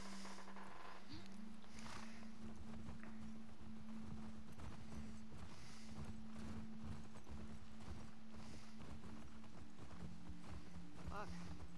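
Rhythmic clip-clop of horse hooves trotting on hard ground in the video game The Last of Us Part II, steady and close, under a low continuous hum.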